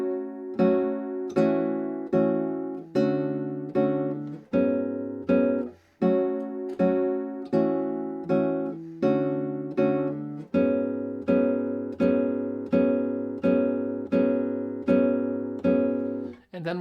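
Fingerstyle acoustic guitar plays the transition section of a song, a steady run of plucked chords and bass notes in an even, repeating rhythm, close and clear with no talking.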